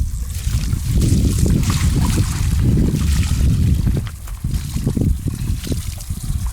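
Air bubbling and gurgling out of a small tire puncture submerged in water, a loud, close, continuous bubbling and splashing with no one talking.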